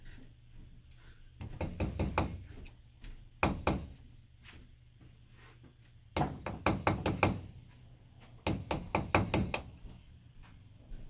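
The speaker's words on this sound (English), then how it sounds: "So we're going to try to knock out that pin." Sharp metal taps from knocking a pin out of a Kawasaki KZ400 carburetor come in quick bursts of four to six hits, separated by pauses, close and clear.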